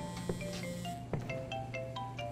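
A phone rings in the video game Crime Scene Cleaner, several short repeated electronic ring tones sounding steadily over a low ambient game background.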